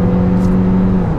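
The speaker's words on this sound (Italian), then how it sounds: "Sempre il motore che entra quando si alza tanto di giri, ma poi si zittisce e non crea alcun tipo di disturbo." The hybrid engine of a 2022 Kia Niro revs inside the car on a motorway, a loud, steady mid-pitched drone over road rumble that lasts about a second.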